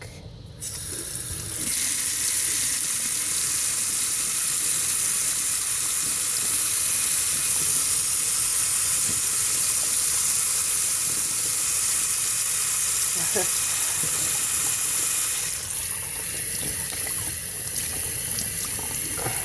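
Tap water pours steadily into a bathroom sink, a loud continuous close rush with a slight change in flow toward the end.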